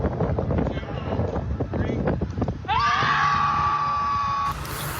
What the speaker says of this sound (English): Scream Club Twin Cities performing.